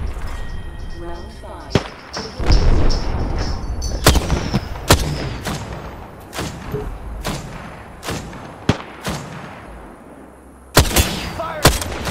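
Apex Legends gunfire rings out close and loud, single sharp shots and short bursts spaced irregularly over a rumbling game background, with some voice audible between them.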